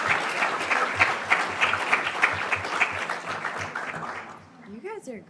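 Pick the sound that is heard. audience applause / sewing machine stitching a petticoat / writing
audience applause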